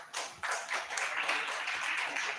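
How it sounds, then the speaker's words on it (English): A conference audience breaks into a round of applause, dense and continuous clapping from a roomful of people lasting a couple of seconds, fairly close and with no talking over it. "let's give them a round of applause"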